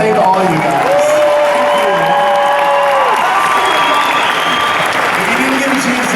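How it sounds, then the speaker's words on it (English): A large convention audience applauds and cheers loudly and steadily for departing cast members, a continuous roar of clapping with scattered whoops and shouts close by. "show these three how much we're going to miss them with a huge round of applause"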